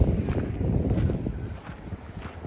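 Gusty wind at an agricultural park rumbles and buffets the microphone continuously, with a low roaring texture and faint outdoor noise underneath.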